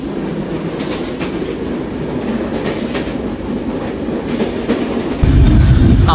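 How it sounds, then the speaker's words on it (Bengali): Intercity train running through a station without stopping, heard from on board as a loud steady rumble with rhythmic clickety-clack of wheels, swelling louder toward the end. "আমাদের ট্রেন এখানে দাঁড়াবে না থ্রো চলে যাবে"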